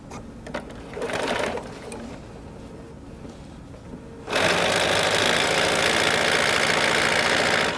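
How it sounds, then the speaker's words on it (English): A sewing machine stitches quilt block fabric pieces placed right sides together, starting with brief bursts and then running in a steady, loud, continuous whir close by, with no voices. "Take this over to the machine, just the way you had it laying on your design area, right sides together, and stitch."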